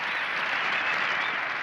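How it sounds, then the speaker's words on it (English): Golf spectators at The Open at Muirfield give a sustained round of applause, a dense, steady wash of clapping from a sizable crowd with no talk. "And receiving well-deserved applause"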